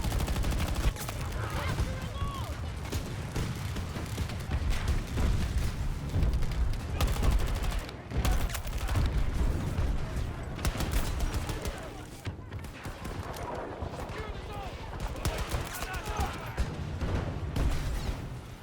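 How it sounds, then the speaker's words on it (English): Heavy gunfire from the video game Battlefield 2042, with dense automatic bursts, single shots and explosions crackling continuously and loud throughout, mixed with other game sounds. "The sounds really complement the heavy feel of the gun, and I think shooting enemies overall is such a joy in this game."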